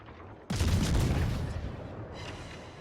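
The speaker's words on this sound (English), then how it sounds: "I just keep shooting this Aetam for now" A warship's naval guns fire in World of Warships, one sudden heavy boom that breaks in sharply and then rolls and rumbles away over a couple of seconds, close and loud against a quieter background.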